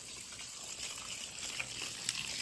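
Garden hose spraying water in the shade on a hot day, a steady broadband hiss and gush that runs unbroken and fairly close, with small splashy spikes near the end.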